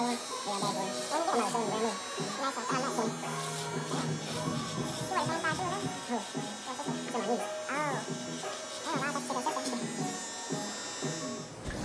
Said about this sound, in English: I'm going to take my shaver and I'm going to get it real close and bald